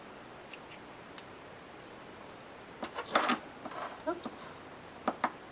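Scissors cut a ribbon for a small bow on a mixed-media wood block craft. A few quick, crisp snips come close and quiet, separated by near silence.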